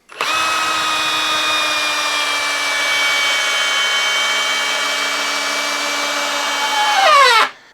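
A Craftsman impact driver drives an 8-inch timber lock screw into wood, a loud, close, continuous motor whine with a rapid hammering rattle that holds for about seven seconds, then rises briefly and winds down to a stop.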